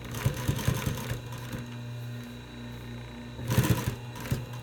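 A Pfaff sewing machine runs its widest zigzag stitch, giving a fast mechanical whir with rapid ticking. It runs in short bursts at the start and end with a quieter pause in between.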